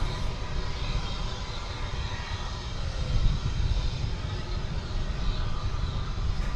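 MD jet airliner at DFW Airport, a steady broadband engine roar with rumbling low end, sustained and fairly loud throughout, swelling slightly near the middle.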